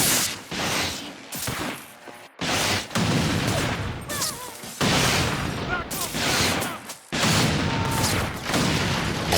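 Bursts of gunfire and explosions from the Infamous 2 video game on PS3, loud rapid volleys repeating in several waves with brief gaps, under faint voices.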